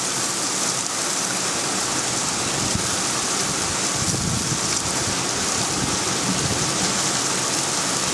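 Steady heavy rain pours down through a thunderstorm on 21 June 2012, a dense, unbroken hiss with some wind buffeting the microphone and no distinct thunderclap.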